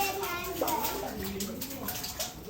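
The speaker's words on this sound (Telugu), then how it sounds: "గైస్ వాటర్ వచ్చేసాయి" Cold, fresh water gushes out steadily in a village, a continuous rushing splash with a voice faintly audible early on.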